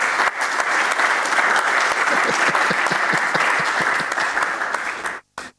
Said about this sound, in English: Hene, allow us to give you a round of applause